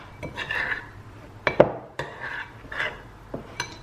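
A spoon stirs food in a dish with several scraping swirls and sharp clinks against the sides, close and moderately loud, arriving in uneven bursts.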